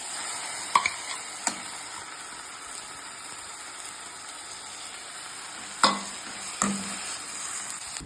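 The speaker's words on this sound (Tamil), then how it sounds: "இப்போ ஒரு தக்காளி பழம், அரைச்ச தக்காளி பழம் ஒன்று போட்டு மிக்ஸ் பண்ணலாம்." Dried shrimp frying in a pan while ground tomato is stirred in, a steady close sizzle broken by a few sharp spoon scrapes and clinks against the pan.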